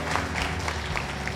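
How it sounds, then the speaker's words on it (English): Wedding guests clapping together at a Nashville wedding venue, a brief, dense burst of applause lasting just over a second. "Okay, clap."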